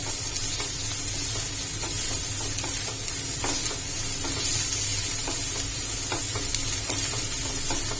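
Onion added to a pan where ginger, garlic and green chillies are already frying in oil gives a steady close sizzle, with light scraping stirs and clinks scattered throughout.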